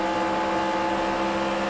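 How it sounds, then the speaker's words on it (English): A stock-car engine in the NASCAR Racing 2003 Season sim, running on track at California, holds a steady, loud, high-revving drone with no talk over it. "Oh, listen to that engine sing."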